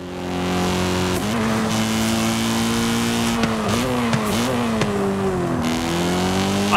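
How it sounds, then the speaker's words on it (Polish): A BMW M3 G80's V8 engine hums and revs up and down repeatedly, its pitch rising and falling in smooth sweeps, steady and close, in the video game Forza Horizon 5. "To jest też silnik, który był instalowany wcześniej w BMW-kach. Także tutaj trochę dźwięk się zmienił"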